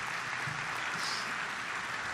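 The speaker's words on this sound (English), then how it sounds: "please clap if you agree" A lecture audience at a walkable-city talk gives steady, fairly faint applause, an even wash of clapping lasting a couple of seconds with no voices over it.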